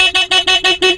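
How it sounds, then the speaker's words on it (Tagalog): A motorcycle's stock horn sounds five short, loud beeps in quick, even succession, close by with no talking. "titestingin natin yung busina. Stock horn muna."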